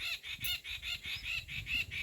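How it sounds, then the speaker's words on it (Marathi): Farm birds call in the evening in a quick, regular string of repeated chirping cries, about nine in two seconds, fairly faint and with no one speaking. "सिंदुरी अंगण आहे आणि त्याच्यामध्ये पक्ष्यांचे किलबिलाट"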